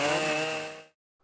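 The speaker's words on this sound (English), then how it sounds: "the contractor used his chainsaw skills to carve out a trail to a new camping area" A contractor's chainsaw cuts through wood while carving out a trail to a new camping area, a loud, close buzzing whine that winds down and stops abruptly, leaving silence.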